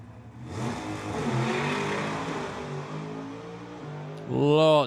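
A drag racing car launches hard off the line with tyre shake, its engine roaring loud and continuous, pitch wavering and climbing, then surging louder near the end.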